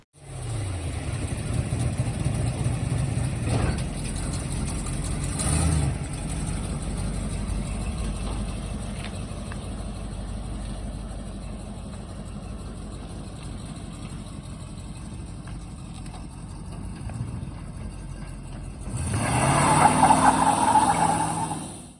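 A truck with a newly reassembled front end and machined inner fender parts runs on a test drive, its low engine drone steady and near throughout, swelling louder at the end.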